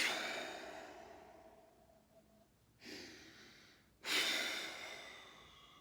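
Slow, deep breathing during a neck and shoulders workout: a long fading exhale, then two strong airy breaths a second or so apart, close and unaccompanied by talk.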